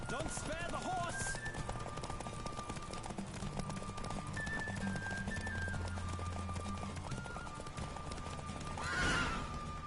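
Hooves pound in a fast galloping rhythm while a horse neighs in the video game The Witcher 3: Wild Hunt, with voices and game sound effects layered over the top.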